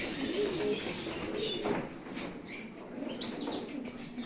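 Pigeons coo softly and flap their wings nearby, with low rolling coos, a few chirps and brief wing-flutter bursts in a continuous close murmur, and no clear talk.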